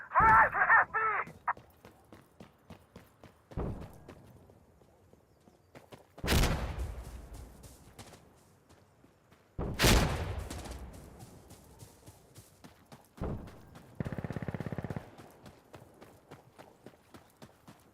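Chemical mortars fire in the video game Death Stranding, with several heavy booming launches and impacts separated by quieter stretches, plus sharp transient clatter, all loud and close with no talking over them.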